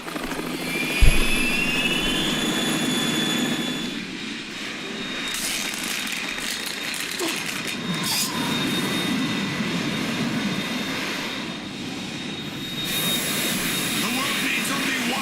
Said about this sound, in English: We're in trouble. It's the Harrier.